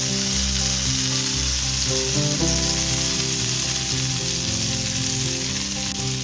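Chocolate French toast sticks fry in melted butter over a very low flame, giving a loud, steady sizzle with no talking throughout.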